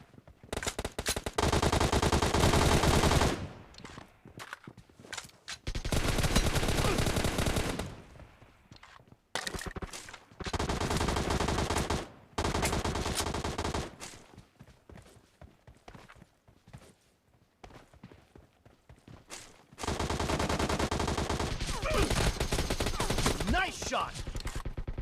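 Bursts of rapid automatic gunfire in a video game ranked match, several long sustained volleys separated by brief pauses and scattered single shots, loud and close.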